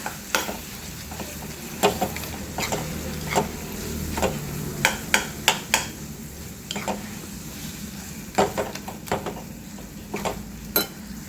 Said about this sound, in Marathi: इथे आपण छान भरीत मिक्स करून घेतले आहे